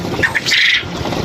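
Squawking calls from egg-laying birds kept on a farm: a couple of short, sharp cries, then a longer harsh squawk, close by and loud, with no talk.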